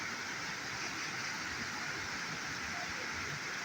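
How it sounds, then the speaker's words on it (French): A small mountain torrent rushing along, a steady broadband wash of flowing water heard close and without pause, no voices over it. "Petit torrent, même."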